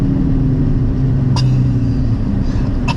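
Aston Martin DB11 engine with the gearbox in Sport Plus, a steady, loud, low rumble at a calm idle or cruise, with a couple of brief clicks over the drone.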